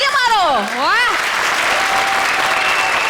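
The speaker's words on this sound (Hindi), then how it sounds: "तालियां मारो" Studio audience at a comedy show applauds in a loud, steady wash of clapping, with a voice speaking briefly over the start.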